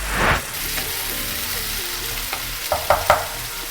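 Ginger garlic paste sizzles steadily in a hot pan for a Katla fish curry, with a constant frying hiss and a few light clinks of a stirring spoon toward the end.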